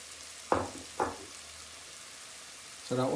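Onions, garlic and ginger frying in a pan for a brinjal bhajee, a soft continuous sizzle close by, broken by a few short voice sounds.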